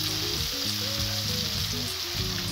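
Winter vegetables for a mixed veg dish sautéing in a pan, giving a loud, steady, close sizzle that runs unbroken throughout.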